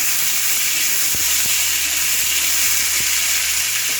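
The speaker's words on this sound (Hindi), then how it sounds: "अब साथ ही साथ हम इस मटर को डाल देंगे और इसे चलाएंगे।" Green peas sizzle steadily in a hot pan while being stirred, a constant bright hiss of frying with faint scraping knocks from the stirring underneath.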